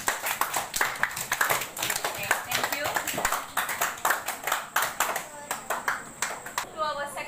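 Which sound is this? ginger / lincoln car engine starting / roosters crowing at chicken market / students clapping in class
students clapping in class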